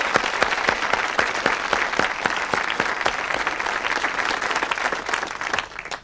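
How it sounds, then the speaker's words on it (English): A 1970s UK television studio audience applauds the suspects on a whodunnit panel show, with steady, rhythmic clapping that stays loud throughout and thins slightly at the end. "Let's have some applause for the suspects."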